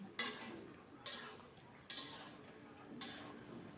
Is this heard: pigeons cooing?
no